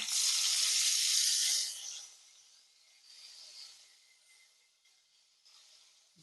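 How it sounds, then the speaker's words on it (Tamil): Mustard seeds hit two tablespoons of hot oil for tempering, giving a bright, loud sizzle that fades quickly into a faint crackle and hiss. "இதுக்கு 2 மேசக்கரண்டி எண்ணெய் விட்டுருக்கிறேன். கடுகு போடுவோம்."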